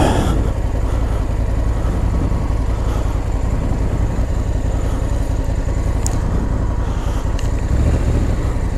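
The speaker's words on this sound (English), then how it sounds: "Let's see if we can get a better way of stopping the bike." A Honda Africa Twin 1100 DCT motorcycle engine running as the rider slows to stop, a loud steady low rumble and drone throughout with a few faint clicks, no talk.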